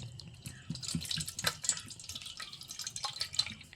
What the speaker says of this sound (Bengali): দেখুন বন্ধুরা স্ট্রেনারের সাহায্যে জলটা ছাঁকতে দিয়েছি